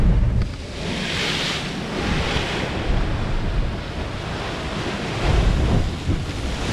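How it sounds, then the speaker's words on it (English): Large waves surging and sloshing against the rocky Door County shore, heard as a loud, continuous roar of rushing water with swelling surges, mixed with wind buffeting the microphone. "Keep rolling. Big wave. Slosh."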